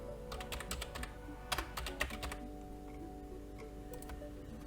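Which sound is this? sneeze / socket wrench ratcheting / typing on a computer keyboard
typing on a computer keyboard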